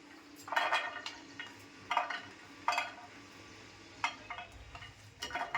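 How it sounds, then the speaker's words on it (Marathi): Tomatoes, garlic cloves and green chillies roast on a hot tawa, giving a faint crackle broken by a handful of sharp clinks and scrapes as they are turned. "ह्या मी आता तव्यामध्ये अशा चांगल्या भाजून घेते"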